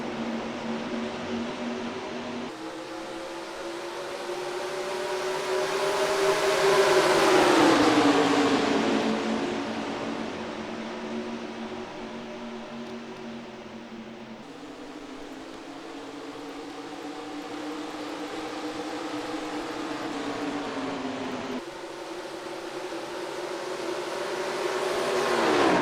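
Several stock cars in the NASCAR Racing 2003 video game, at the green-flag start of an exhibition race at Rockingham, UK, roar steadily, a pack passing close with a swelling engine wash that fades, then drones on continuously.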